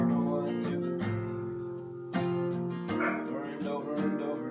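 Dogs barking in a few short bursts at an outdoor tailgate, heard under live acoustic music with singing.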